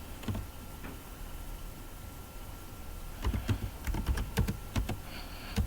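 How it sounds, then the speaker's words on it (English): Rapid keystrokes on a computer keyboard as a website address is typed in, a quiet run of clicks that grows busier and louder toward the end over a faint steady hum. "first you type in the URL"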